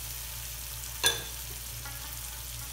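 Chicken cooking in a frying pan with vinegar, soy sauce and red chili sauce, a steady low sizzle broken by one brief stirring scrape near the middle and a fainter touch later, with no talking.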